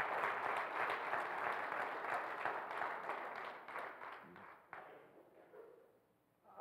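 A church congregation gives a hand clap of praise after a Sunday morning service, dense applause that holds steady for several seconds and then thins out and fades away, with no speech over it.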